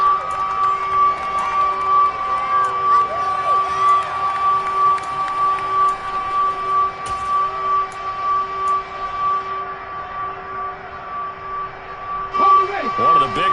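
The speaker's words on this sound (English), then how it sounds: "The crowd getting into it as we come up on a big third down." A football stadium crowd cheers in a steady roar ahead of a big third down in a Bucs vs Steelers game, with sustained whistle-like tones and shouts rising over it.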